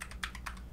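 Short burst of quiet keystrokes on a computer keyboard while entering Android app code, several quick clicks close by.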